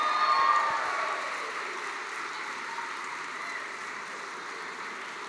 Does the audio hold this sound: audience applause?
yes